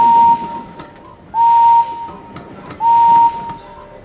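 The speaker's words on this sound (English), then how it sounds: "One of these whistles belongs to James. Listen to the engines and find the right sounds for them." A steam locomotive whistle from a Thomas & Friends video game sounds three times, each a steady sustained blast about half a second long with pauses between, loud and clear with no talking.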